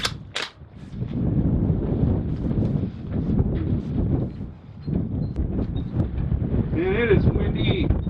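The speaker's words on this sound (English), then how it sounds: "Man, it is windy." Strong, steady wind buffets the microphone at an outdoor shooting range during rifle sighting-in, a dense rumbling roar throughout, with a sharp gunshot-like crack near the start and someone talking over the gusts.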